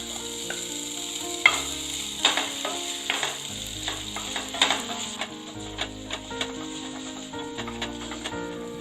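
Chopped ginger sautéing in a pan for chutney, a steady sizzle under repeated clinks and scrapes of a spoon stirring against the pan, with sustained background tones throughout.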